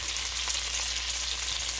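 Half a cup of onions frying in a pot for one-pot chicken and rice, giving a steady, fairly loud hissing sizzle that runs evenly throughout with no voices.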